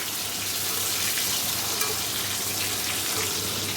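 Duck eggs fry in a pan with a loud, continuous hiss and sizzle up close, an unbroken crackling wash that runs the whole length without any talking.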